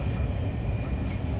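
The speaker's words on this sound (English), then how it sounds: "it is very noisy in here. But we're in the bullet train." A steady, loud low rumble and rattle fills the interior of an old Korean bullet train bound for Busan, droning on without a break.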